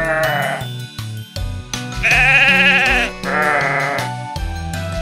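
Sheep at a fair bleat loudly in several quavering cries, one long wavering bleat at the centre flanked by shorter ones, close and dominant with no talk.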